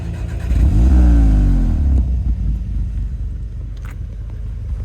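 An Audi S1 engine revs up with a deep rising roar, then drops back to a rumbling idle, loud and close.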